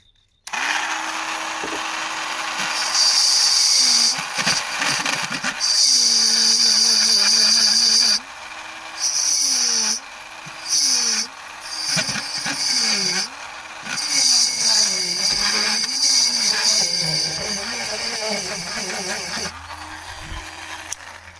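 A small power tool with a fine bit whirs in steady bursts while cleaning a fuel gauge part from a BMW E36, its pitch wavering and dipping under load, with short pauses between passes.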